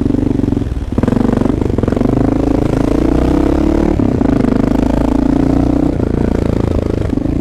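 A Honda XR650L dual sport motorcycle brakes hard with front and rear together, its steady loud engine drone dipping and shifting as tires scrub, captured close throughout.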